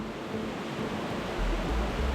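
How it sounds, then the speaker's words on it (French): An underground river runs high and strong, its water rushing and pounding nearby in a dense, steady roar that swells slightly toward the end. "L'eau, elle est haute et ça tape fort"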